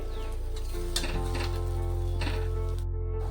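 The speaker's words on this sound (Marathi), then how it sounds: "आता मी हा मसाला रश्श्यामध्ये टाकून घेते." Roasted masala tips into a pan of sizzling black mutton rassa, a close, steady hiss with a few soft scraping stirs, under background music.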